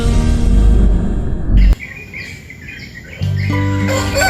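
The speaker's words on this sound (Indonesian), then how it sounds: "sekumpulan burung yang berkicau sehingga membangunkan Joko dari tidurnya" Several birds chirp and call on a bright Sunday morning, bright repeated tweets layered over a loud, dense background that drops away partway through before a steady low hum returns.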